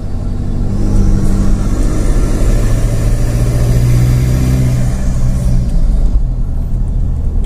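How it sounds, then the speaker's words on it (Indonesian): Inside the cabin of a Mitsubishi Pajero Sport SUV with a 4N15 diesel engine and an open air filter, a steady, loud engine drone and turbo hum hold throughout with slight rises in pitch. "Suara mesinnya atau suara turbonya itu kedengeran."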